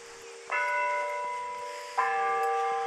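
Cemetery bell tower bell ringing the hour, two clear resonant strikes about a second and a half apart, each leaving a long humming decay, heard from a moderate distance.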